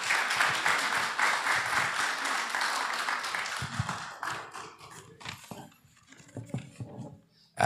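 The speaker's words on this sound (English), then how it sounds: "So a round of applause for everybody." Audience applause at a book launch for author W. Allan Carty: dense, sustained clapping that thins into scattered claps and fades toward the end.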